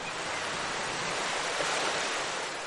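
Ocean surf beneath the Santa Cruz Wharf in California, a steady close wash of breaking waves with no distinct crests, loud and continuous throughout with no voices.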